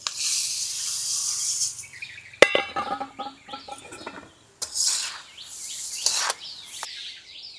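Puffed rice tipped into a pan, making dry rustling, crackling pours in a few distinct bursts with short quiet gaps between them, close and moderately loud.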